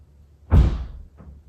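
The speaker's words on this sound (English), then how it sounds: "Do you hear the door slams?" A door slams shut somewhere in a house, one heavy dull thud followed by a softer second knock a moment later, moderately loud and a little distant, with no voices.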